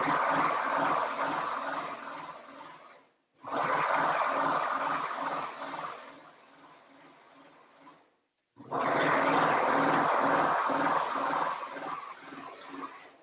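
A serger stitches the side seam of a pair of pants in three steady, whirring runs, each several seconds long with a fast pulsing rhythm and short pauses between them.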